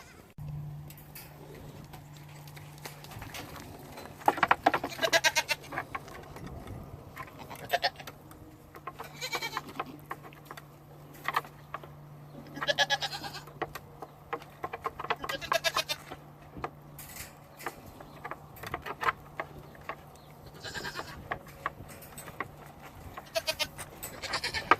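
Goats on a ranch bleat repeatedly in short, irregular calls, some close and fairly loud and others fainter, over a low steady hum.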